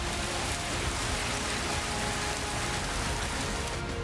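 Heavy, dense rain pouring steadily in Himachal Pradesh, a loud continuous hiss of drops hitting surfaces with no pauses.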